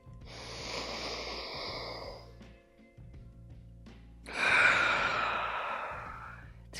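Slow, deep breaths with the head lowered toward the chest: a long airy exhale, a pause, then a stronger deep inhale, each close and breathy with no speech.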